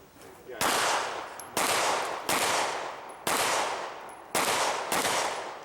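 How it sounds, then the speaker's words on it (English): Six pistol shots ring out at an IDPA shooting match at an outdoor wildlife club range, each a sharp loud crack followed by a long decaying echo, spaced roughly a second apart with no talking. "Load, charge, and engage with 6 rounds."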